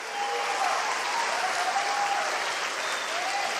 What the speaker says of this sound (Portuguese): Se você crê, aplauda.